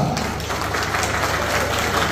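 Applause from a crowd opening a competition at a BNI members day celebration in Dindigul, a dense continuous wash of many hands clapping, loud and close, lasting the whole short stretch without pause.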